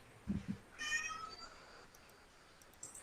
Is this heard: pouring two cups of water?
no